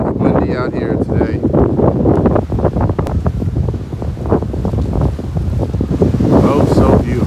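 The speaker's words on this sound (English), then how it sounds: "It is windy out here today." Strong gusty wind buffets the microphone outdoors on Staten Island, New York, at a flatbed truck unloading job, a loud continuous rumble with rushing bursts throughout.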